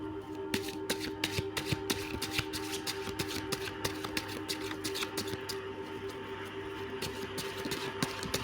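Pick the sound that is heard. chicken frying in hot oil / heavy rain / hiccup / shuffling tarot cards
shuffling tarot cards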